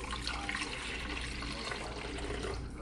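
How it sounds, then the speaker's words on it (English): Water runs steadily from a tap into a container being filled to its max line, a constant rushing splash with no pauses and no voices, at moderate loudness. "So I'm going to fill it up to the max and see how many cups of water that is."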